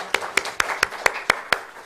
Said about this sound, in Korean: 자, 우리 박수 한번 쳐줍시다.